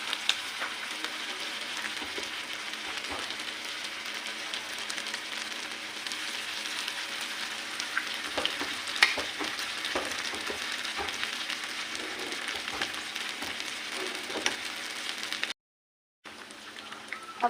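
Chicken pakoras dropped into hot oil fry with a steady, fine crackling sizzle over medium-low heat, continuous and fairly faint, with a short silent gap near the end.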